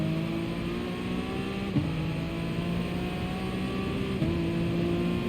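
Race car engine in GT Sport at full throttle, a steady high-pitched drone that climbs through the gears with two quick shift dips, loud and continuous with no voices.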